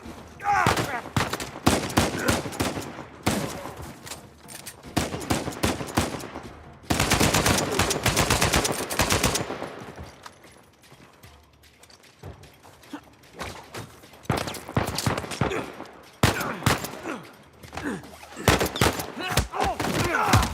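Sniper fire and other gunfire in Uncharted 4 come in loud, repeated bursts separated by short quiet gaps.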